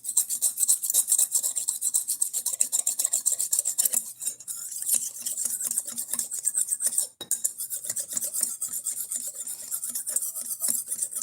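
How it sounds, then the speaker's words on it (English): A knife is sharpened with quick, repeated scraping strokes, a steady, close, raspy rhythm with brief pauses and no talking. "I'm sharpening a knife."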